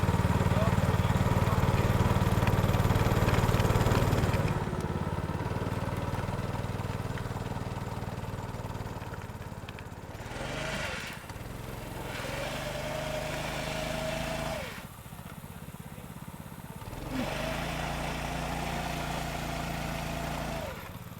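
A vehicle engine at the Bonneville Salt Flats runs loud at first, then settles into a steady idle with a few revs rising and falling, close by, with people talking over it.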